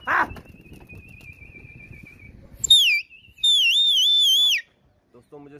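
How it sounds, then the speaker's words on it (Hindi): A pigeon fancier's whistle, blown while flying pigeons, gives a long wavering high tone and then a louder warbling trill; a voice talks briefly at the start before it begins. "दोस्तों मुझे सीटी दबानी पड़ती है"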